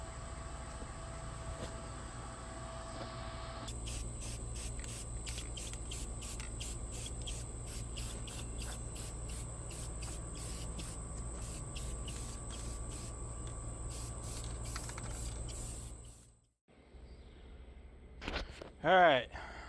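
Galvanized unistrut being welded makes a steady, even buzzing crackle that runs close and continuous for about sixteen seconds, then cuts off and leaves quiet clanks.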